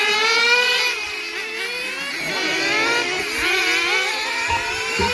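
Several small engine-powered RC cars race on the Wattsu OHM circuit in a freshman TG class heat, their high, buzzing engines revving and overlapping continuously as they pass at varying distances.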